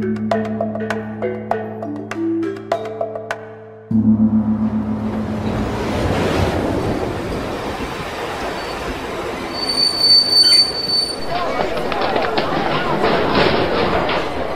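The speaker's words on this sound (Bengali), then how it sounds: "স্টেশনে ট্রেন থামতে না থামতেই যাত্রীদের মধ্যে হুলস্থুল বেঁধে গিয়েছিল।" A train pulls into a station and stops, a radio drama effect: after a short musical opening, a loud rumble of rail cars rises with a high, sustained wheel squeal as it brakes.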